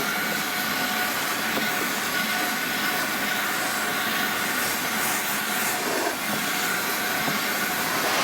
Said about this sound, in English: And here's what it looks like with the vacuum on.